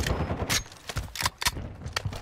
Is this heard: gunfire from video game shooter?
yes